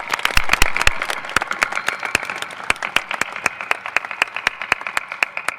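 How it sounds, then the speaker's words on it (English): A graduating class applauds at a college commencement ceremony, loud sharp individual claps standing out over a dense field of steady clapping that carries on throughout. "Let's give ourselves a big round of applause for making it here today."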